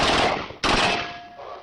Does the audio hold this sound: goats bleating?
no